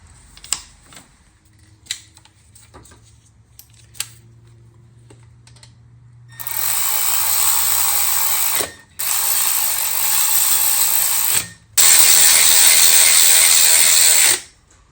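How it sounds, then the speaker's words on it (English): A hand ratchet turns a bolt on the AC line of an Acura RDX during compressor replacement: a few faint clicks, then three long, loud bursts of rapid close clicking separated by short pauses. "And then I'll put this line back on and retorque it again."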